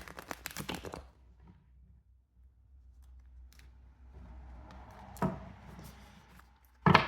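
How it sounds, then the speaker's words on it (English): A quick burst of papery riffling as a Rider-Waite tarot deck is shuffled, then near silence, a soft tap, and another brief shuffle at the end. "Do one more shuffle."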